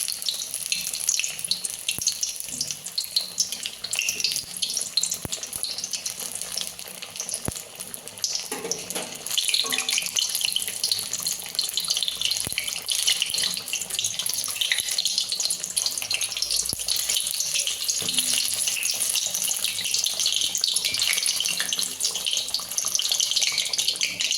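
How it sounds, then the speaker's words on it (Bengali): Ash gourd fritters fry in oil over a low flame, giving a soft, continuous sizzle and hiss that runs unbroken throughout, fairly quiet and steady with no voices. "বড়াগুলো ভেজে নেব"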